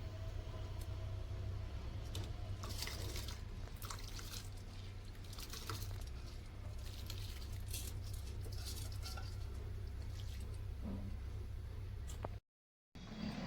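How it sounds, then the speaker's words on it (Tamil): Parboiled rice boiling in a pot of water on a home stove, heard as a steady low rumbling boil with soft bubbling and patter throughout, briefly cutting out near the end. "அதை நம்ம கொதிக்கிற உலையில் போட்டுடலாம்."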